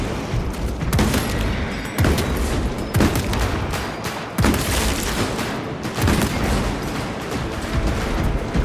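Rapid bursts of weapon gunfire crackle and boom in Warhammer 40,000: Space Marine 2, loud sharp shots repeating roughly every second over a dense continuous roar of battle.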